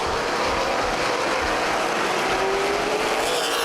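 Race cars roar around the oval at Anderson Speedway during a CRA Super Series event, a dense continuous engine drone filling the track with no talk over it.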